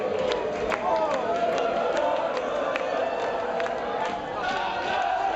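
A crowd of Dutch football fans gathers in London, a dense, lively murmur of many voices with scattered shouts and sharp knocks, heard close and steady throughout.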